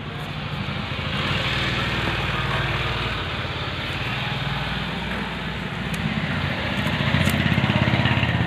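A Bajaj Pulsar motorcycle with a suspected electrical fault runs steadily at idle, its engine note close and continuous for the whole stretch, rising slightly toward the end.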